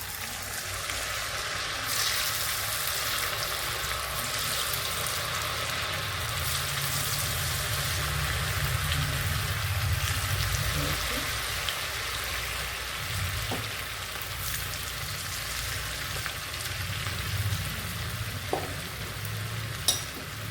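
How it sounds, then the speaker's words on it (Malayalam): Battered cauliflower pieces deep frying in hot oil: a steady, dense crackling sizzle that runs without a break, close and moderately loud, with a few faint clicks of utensils and no talk. "ഇത് ഓരോന്നും എടുത്ത് ഇതിൽ നല്ലവണ്ണം ഒന്ന് മുക്കിയതിന് ശേഷം എണ്ണയിലിട്ട് കൊടുക്കാം"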